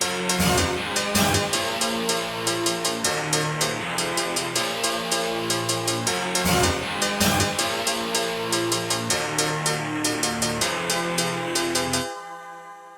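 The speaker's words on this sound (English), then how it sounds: "the rest of the instruments and guitar go like this" A full band mix of guitar and backing instruments plays the driving chorus of a song with regular rhythmic accents, dense and loud, ending with a brief fading tail.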